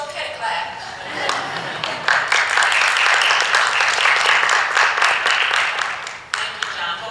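Audience applause following a panel talk on sports, a dense, steady clapping from a crowd that swells after a second and holds at a loud, even level before tapering slightly at the end.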